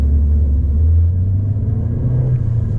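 A 2019 Toyota Corolla Hatchback with a 6-speed manual gearbox is driven, its engine a close, steady low rumble from inside the cabin with no voices.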